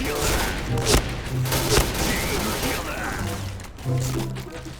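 Gunfire in an online first-person shooter rattles in several short bursts, moderately loud and somewhat muffled, mixed under a player's excited talking.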